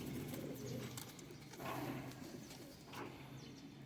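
Breeder and flying pigeons coo in low throaty repeated calls throughout, close and continuous over a faint background hum.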